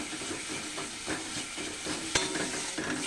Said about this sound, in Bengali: একটু ভালো করে কষি, একটু মানে অনেকক্ষণ ধরেই কষতে হবে